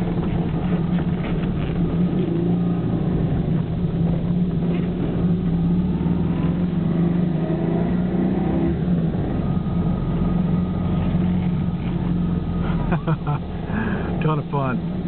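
A small Honda 600 car engine hums and revs steadily while driving, loud and continuous throughout, with a voice briefly audible near the end.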